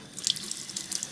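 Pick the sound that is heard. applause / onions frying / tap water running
tap water running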